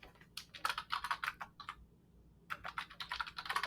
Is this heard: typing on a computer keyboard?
yes